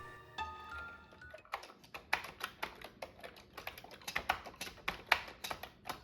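Typing on a Commodore 64 keyboard, steady clicking keystrokes close by with an irregular rhythm, alone and without talk, after a brief tone at the start.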